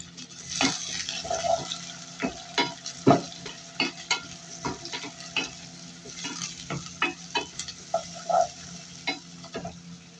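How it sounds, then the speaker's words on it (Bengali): Chopped onions sizzle steadily in a pan while a spoon scrapes and stirs through them in irregular strokes, each one knocking against the metal, close and fairly quiet, with no talking. "এখানে যে পেঁয়াজগুলো কুচিয়ে রাখছিলাম, কেটে রাখছিলাম, এটা দিয়ে দিব।"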